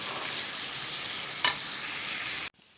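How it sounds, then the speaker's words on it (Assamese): Masala frying in a pan for a liver and pumpkin curry, a continuous bright sizzle with a brief sharp scrape partway through before the sound cuts off abruptly. "মছলা দি পেলাই মছলাখিনি পূৰা ভাজি ল'লোঁ"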